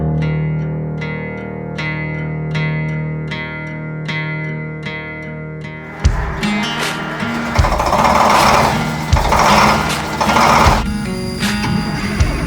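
A magnetic drill bores into the steel frame of a Chevrolet C3500HD truck during a frame stretch for a Cummins swap. Rhythmic pulsing tones give way to loud, close, continuous grinding and cutting with no talk.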